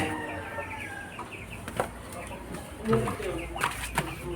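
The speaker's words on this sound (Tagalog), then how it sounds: "Napisa na ang mga itlog ng bibi." Newly hatched ducklings peep in thin, high chirps over steady background noise, with a few louder close calls and a faint voice in the mix.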